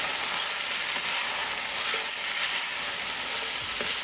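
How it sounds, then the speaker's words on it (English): Ground spices, salt, black pepper, coriander and cumin are stirred into vegetables in a pot for homemade vegetarian soup, giving a steady close sizzle with faint scraping as the mixture is worked, no voices. "Mix it well."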